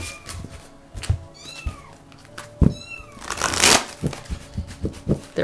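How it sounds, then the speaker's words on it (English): A little kitten crying, a series of high rising and falling meows repeated several times close by, mixed with rustling and shuffling of cards. "Their cute little kitten cries."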